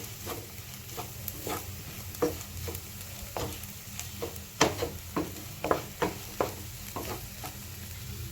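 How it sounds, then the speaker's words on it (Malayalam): Chicken curry masala, Kerala style, fries in coconut oil with a soft steady sizzle while a spoon scrapes and stirs the pan in repeated close strokes. "കുറച്ചും കൂടി വെളിച്ചെണ്ണ ആഡ് ചെയ്തിട്ടുണ്ട് മിക്സ് ചെയ്യട്ടെ"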